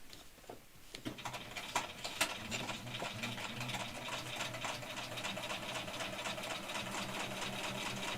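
A sewing machine stitches straps onto a bag, running in a steady, continuous whir with rapid needle ticking that starts after a few brief clicks and carries on evenly close by.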